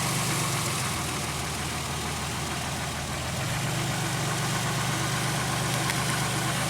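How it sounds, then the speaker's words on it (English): A Pontiac Aztek with a rich-condition fault idles steadily during a cylinder power balance test, a close, even engine drone with a slight shift in tone midway, no talking. "Waiting for engine speed to stabilize."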